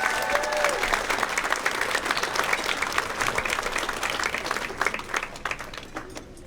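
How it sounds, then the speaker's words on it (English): Audience at the 18th annual Dartmouth Athletics Hall of Fame ceremony breaks into loud, sustained applause filling a large hall, dense clapping that holds steady before easing slightly near the end. "Give them a round of applause."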